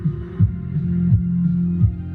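Subwoofer bass in a Honda Civic playing at max volume, a deep booming hum with rhythmic throbbing pulses, heard from inside the car with no talk.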